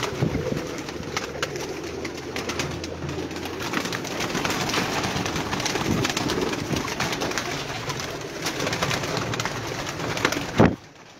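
A large flock of breeding pigeons on a rooftop, cooing continuously in overlapping low calls from many birds, with a few louder bursts near the end.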